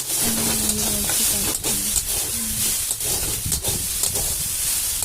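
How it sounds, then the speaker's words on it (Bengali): Maggi noodles fry in a hot pan, a loud steady hiss and sizzle with occasional stirring scrapes and light clatter close by. "এটা আমি এখন ভেজে নেব।"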